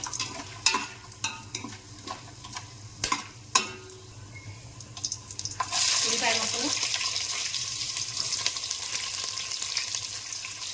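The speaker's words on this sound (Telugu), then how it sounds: "మూడు టేబుల్ స్పూన్లు నూనె నూనె వేసాను రెండు టేబుల్ స్పూన్లు నెయ్యి వేసానండి ఇప్పుడు హోల్ గరం మసాలా వేసుకోవాలి కొద్దిగా వేయించుకోవాలి" Whole garam masala frying in oil and ghee for bagara rice. Sharp clatters of spices and utensil come first, then a close, steady sizzle builds and continues. A voice is heard faintly underneath.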